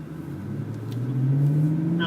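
BMW M3 accelerates away in first gear at a driving school, a close engine rumble rising steadily in pitch as revs climb, with a voice speaking over it.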